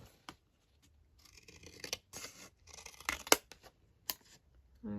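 Scissors trim the edge of a sheet of paper in a few quick, close snips and crisp cutting rustles, with short quiet gaps between cuts.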